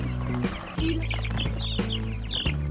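Forty chicks and a couple of goslings in cardboard shipping boxes cheep and peep steadily and loudly, with overlapping high calls and a few sharper chirps close by.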